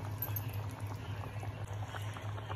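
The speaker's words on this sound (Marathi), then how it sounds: "रस्सा पण आता शिजून झालेला आहे" Fish curry gravy boiling in a pot, a continuous close bubbling and simmering with soft pops and a low steady hum underneath, no voices.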